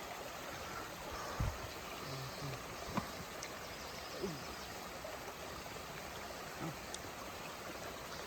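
A mountain stream along the Appalachian Trail flows in a steady, soft wash of water, faint and continuous, with a few light knocks and footsteps on top.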